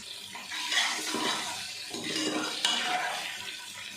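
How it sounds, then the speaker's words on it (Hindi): Ginger and garlic sautéing in hot oil in a pan, a soft continuous sizzle with light stirring scrapes, faint and close with no talk. "अब 1 चम्मच खाने का हम इसमें अदरक और लहसुन डाल देंगे। अच्छे से इसको सौते कर लेते हैं।"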